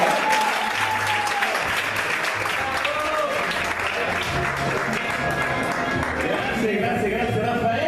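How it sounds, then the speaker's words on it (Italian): Loud, dense audience applause fills an Italian TV talent show studio steadily from start to finish, with cheering and a voice or two rising over the clapping and a musical tone briefly audible beneath. "Grande, grandissimo applauso."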